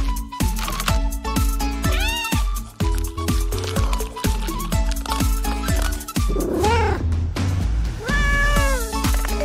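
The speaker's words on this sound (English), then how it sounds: "Okay, a typing cat is impressive." Cat meowing in repeated rising cries over a busy, loud background of plucked tones and clicking taps, continuous for about nine seconds.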